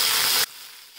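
Green chilies and curry leaves dropped into hot oil with popped mustard seeds, a loud bright hiss that cuts off abruptly after half a second, leaving quiet background; no voices.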